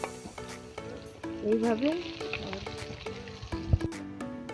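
A pea-stuffed kachori puri deep-fries in hot oil in a kadai, giving a steady close sizzle and bubbling with a few clinks and stirring noises while someone talks over it.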